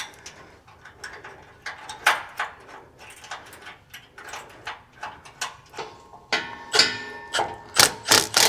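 Band clamp on an AWE catback exhaust being bolted up with 10 millimeter bolts on a 2024 Ford F150 5.0, with a steady run of close, sharp ratcheting clicks and metallic taps that turn louder near the end.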